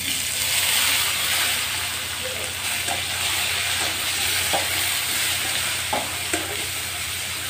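Tomatoes go into a hot pan for a cauliflower and potato curry, giving a loud, steady sizzle with stirring scrapes close by and no talking.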